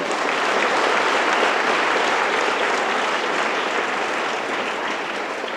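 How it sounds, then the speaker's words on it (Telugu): A live audience at a Telugu community seva days event applauds steadily and loudly, a dense wash of many hands clapping without a break for several seconds. "నిజంగానే మీ అందరూ ఒక్కసారి గట్టిగా చప్పట్లు మోహన్ అన్నకి."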